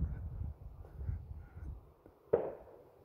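Harsh, scratchy grackle calls come from nearby at a bird sanctuary in Harlingen, Texas, then a single sharp firework bang cuts in near the end.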